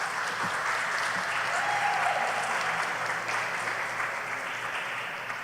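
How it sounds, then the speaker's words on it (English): Steady applause from an audience at a grade 4 academic bowl, a sustained wash of clapping that fades slightly toward the end, with no voices over it. "And round of applause."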